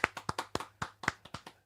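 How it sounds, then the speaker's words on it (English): A small handful of people give a brief round of applause, about a dozen sharp, close hand claps in a quick, uneven rhythm lasting under two seconds. "hearty round of applause"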